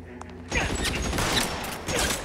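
Gunfire in the video game L.A. Noire, a dense clattering burst of rapid shots and mechanical rattles that starts abruptly and continues loudly with a second surge near the end.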